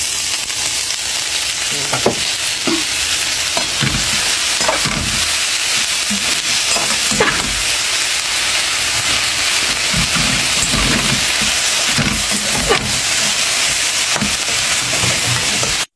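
A hotdog with mozzarella fries in oil with a steady, bright sizzle throughout, punctuated by occasional pops and crackles, close and uninterrupted by talk.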